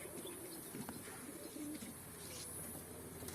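Pigeons in their moulting season give soft, low coos against a steady, noisy background, faint and partly buried, with no speech.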